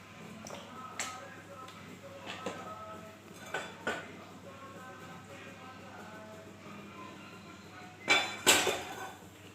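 Onions are stirred in a frying pan with refined oil while chow mein is cooked, giving scattered metallic scrapes and clinks of a utensil against the pan, with a louder clatter near the end over a low background hum.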